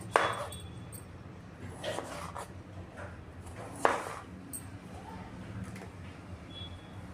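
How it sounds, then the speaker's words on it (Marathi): Knife slicing through peeled potatoes on a board for french fries, a few sharp isolated cuts at irregular intervals over low background hum, with quiet pauses between strokes. "आता इथे मी बटाटा कसा कट करायचा तो सांगते पहिले साईडचे हे कट करून घ्यायचं"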